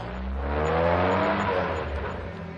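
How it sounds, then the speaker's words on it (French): A car engine revs and hums steadily as the vehicle pulls away in a radio drama, a close mid-pitched drone that swells slightly and then begins to fade. "regardait la voiture s'éloigner"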